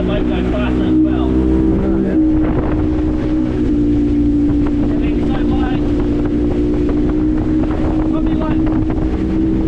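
A motorboat, an Extreme 500 Sport Fisher, runs fast and trimmed up, its engine holding a steady droning whine under heavy wind buffeting on the microphone while someone talks over it.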